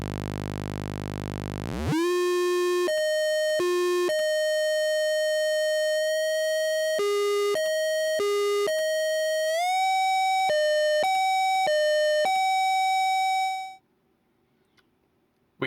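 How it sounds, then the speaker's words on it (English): A no-input mixing board fed back into itself with the low cut engaged sings pure, harmonically related oscillator tones, holding steady pitches that switch abruptly between two levels in choppy steps before cutting to silence. "these two really nice related tones with the low cut button"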